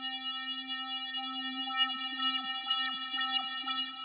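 An Arturia Pigments synth holds a steady buzzy tone while an LFO sweeps its filter, giving faint repeating wobbles and chirps over the sustained note, moderately quiet and with no other sound.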